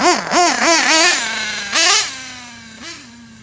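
A Mugen MBX7T nitro RC buggy engine revs in quick rising and falling blips, four in a row, then settles to a steady high idle with two more throttle blips, loud and close, with no talk.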